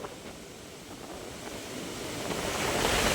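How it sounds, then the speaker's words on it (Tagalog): Strong sea waves roll and crash under a steady rush of monsoon wind buffeting the microphone, building louder toward the end. "ang lakas kasi ng habagat. Lakas pa rin ng hangin. Kaya ganyan ang alon."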